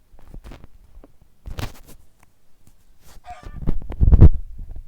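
Minecraft chicken clucking in short bursts, a few brief squawks, fairly loud near the end among game noises and shuffling.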